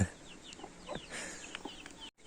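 A hen clucks in short repeated calls at a village farm among newly arrived hens with chicks, with other fowl faintly audible around it and no talking.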